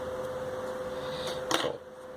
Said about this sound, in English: sorry about the fan in the background